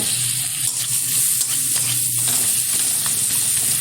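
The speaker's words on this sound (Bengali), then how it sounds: "পেঁয়াজটা তেলের মধ্যে একটু ভেজে নিচ্ছি ভালোভাবে" Chopped onion frying in hot oil, a continuous loud sizzle with faint stirring scrapes in the pan, steady throughout with no talking.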